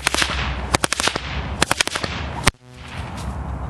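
Sharp whip cracks from a fast figure-8 machine-gun routine come in quick uneven clusters, loud and close, ending with one strong crack followed by quieter air.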